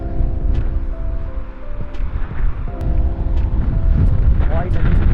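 Strong wind buffeting outdoors, a steady roaring rush with gusty swells that runs loud through the whole stretch, with people talking over it.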